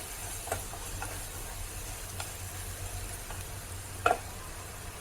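Spices roasting in a pan for horse gram flour pithla, a faint, steady sizzle and hiss with occasional soft ticks of stirring, no voices.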